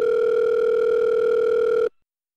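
An in-game phone call in an Unreal Engine 5 phone system rings as a steady, loud electronic two-tone line that holds for almost two seconds, then cuts off abruptly into silence.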